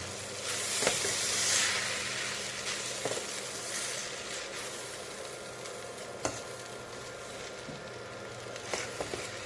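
Egg Maggi noodles sizzling in a pan as they are stirred and mixed, a steady low frying hiss with occasional scraping clicks from the utensil.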